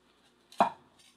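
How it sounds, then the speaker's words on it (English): A Tojiro Chinese-style cleaver chops through a carrot in one sharp, close stroke, a single crisp thunk against the board with nothing else around it. "let's go ahead and do a carrot cut test"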